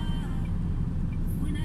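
A truck's retarder brakes the vehicle without the foot brake, heard from inside the cab as a steady, close, low droning rumble that holds evenly throughout.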